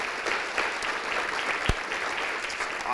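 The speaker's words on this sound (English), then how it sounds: "Please give her a round of applause." Steady applause from a chamber of commerce audience at a speaker series event, a dense, even wash of clapping hands with one sharp thump partway through.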